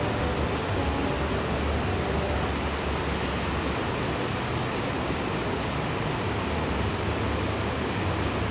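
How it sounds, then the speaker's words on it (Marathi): The Madhuganga river rushes steadily on a Himalayan mountain trek near Madhyamaheshwar, a dense, continuous roar of flowing water close by that fills the whole clip with no voices. "मधुगंगेचा वाहता खळखळ आवाज ऐकत आम्ही पुढच्या ट्रेकला सुरुवात केली."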